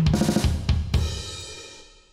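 A fast drum fill of dotted 32nd-note quintuplets moves across kick drum and toms in a dense rolling flurry of close, punchy hits, then rings out into a fading cymbal wash.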